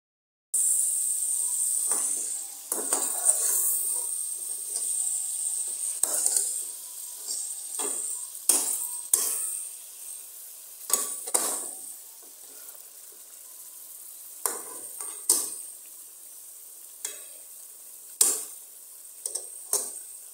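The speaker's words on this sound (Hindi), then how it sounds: "ये मैं चिकन भून रही हूँ" Chicken frying and being stirred in a karahi after onions, with a bright continuous sizzle punctuated by repeated scraping and clanking of a spoon against the metal pan, close and loud.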